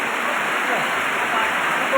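Steady rain pours down outdoors in a Thai rural setting, a dense continuous hiss close by with no break across the whole stretch.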